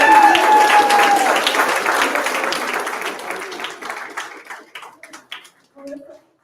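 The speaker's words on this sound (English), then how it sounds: "So I would like for you guys to give them a round of applause." Audience applause at a community gathering with the Los Angeles mayor, a loud burst of many hands clapping that thins out and dies away into a few scattered claps, with people talking and cheering over it.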